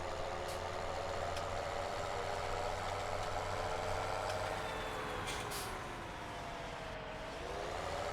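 A tractor engine in the Farming Simulator 17 video game runs steadily, a continuous droning hum with a slight dip and recovery in pitch, with no talk over it.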